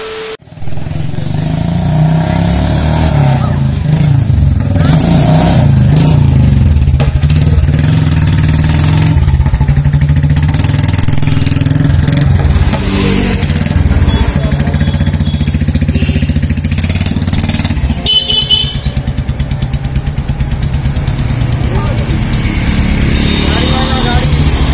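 A Royal Enfield Classic 350 with a Punjab exhaust revs loud and close, a continuous throaty engine roar with rising and falling revs that runs unbroken for the whole stretch.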